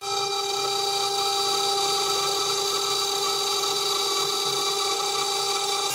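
A 6040 desktop CNC mill cuts aluminum with a 1/4 inch bit at 1/3 stepover and 1 mm depth. It gives a steady, loud, high whining drone with stacked tonal lines and no letup, and no one speaks.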